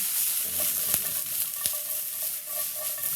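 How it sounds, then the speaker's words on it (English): Cooked noodles for yellow curry noodles being strained in a kitchen, giving a continuous bright hiss of draining water with a couple of sharp clicks and knocks, close and fairly loud, with no talking. "You hear me straining them."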